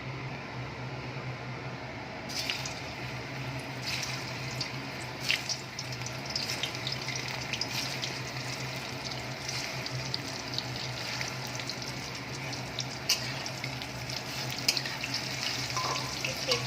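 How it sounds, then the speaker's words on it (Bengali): Chicken kofta balls lightly shallow-fried one at a time in hot oil, giving a steady, fairly quiet sizzle with occasional soft pops and clicks throughout. "এবার আমি একটা একটা করে বল ভেজে নেব।"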